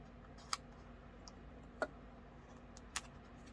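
Scissors cutting a small fish shape out for a UV resin fishbowl pendant give three faint, crisp snips spaced about a second apart over quiet background hum.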